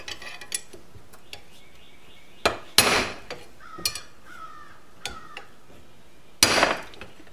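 A bearing bushing is pressed into a 1973 Honda CB750 cafe racer, giving a few sharp, solid metallic knocks and smaller clicks at close range in a quiet workshop.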